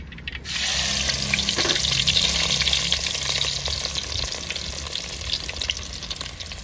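Garlic drops into hot oil with popped mustard seeds: loud, continuous hissing and spitting, a dense crackling sizzle that swells suddenly and holds steady throughout.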